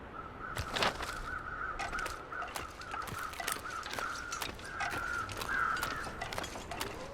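Crows cawing repeatedly in the wintry outdoor landscape of the survival video game The Long Dark, a series of harsh, fairly distant calls over a sharp ticking and clicking mechanism and low ambient wind.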